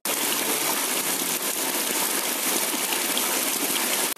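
Heavy rain driven by strong wind, with water gushing and pouring in a steady, loud, continuous roar that fills the whole stretch without a break.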